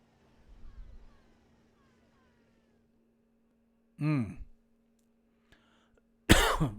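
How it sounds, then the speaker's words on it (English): Two short, loud coughs from a person break a mostly quiet stretch of Clash of Clans gameplay, with a faint hum and a brief low murmur beforehand. "I got a little cough."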